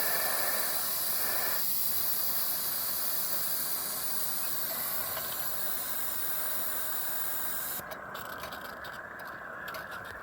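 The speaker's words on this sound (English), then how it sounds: "The valve has blown, so it's let off loads of pressure." Steam hisses steadily from the blown safety valve of a gas-fired model steam engine, a loud, continuous close-up rush that holds for the whole stretch and shifts in tone near the end.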